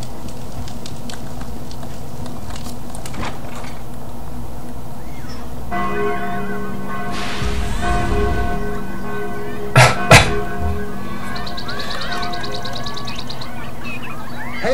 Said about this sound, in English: Hey, Tal, the alarm bells are ringing.